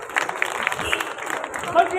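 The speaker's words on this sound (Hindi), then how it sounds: "जोरदार तालियां हो जाए।" Brief clapping from an audience at a community prize-giving for children, a short patter of hands that is fairly faint and mixed with background murmur.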